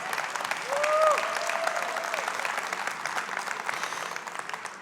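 Audience applause at a white paper presentation on network transactions, a steady wash of clapping lasting the whole stretch at moderate level, with a brief tonal sliding sound near the start.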